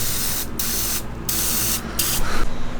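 Degreaser hisses from a spray can onto a grimy Honda Elite 50cc two-stroke scooter engine in several close, loud bursts separated by brief pauses.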